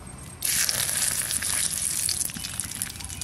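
Cumin seeds and bay leaves hit hot oil and erupt into a loud, steady sizzle after a quiet start, crackling on without pause; no one speaks.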